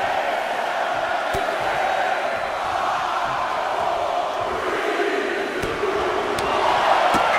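A large wrestling video game crowd in WWE 2K24 roars and chants steadily throughout a Royal Rumble match, counting in the next entrant, a broad wash of voices with a few sharp bangs cutting through.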